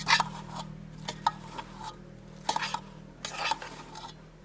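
Cabbage salsa is stirred in a bowl, with several bursts of scraping and rubbing, separated by quieter pauses, close and moderately loud.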